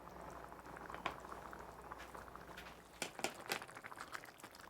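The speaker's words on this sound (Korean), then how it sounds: "보글보글 맛있게 잘 끓고 있죠?" Fish ragu sauce bubbling and boiling in a pot, a steady faint simmer with scattered louder pops and bursts near the end, heard alone without talk.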